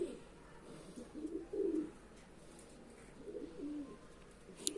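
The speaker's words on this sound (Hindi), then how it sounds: "ये कबूतर है फिरोजपुरी नार" A male Ferozpuri pigeon coos softly nearby in low, throaty rolling phrases, a few gentle bursts spread across the moment over a quiet background hiss.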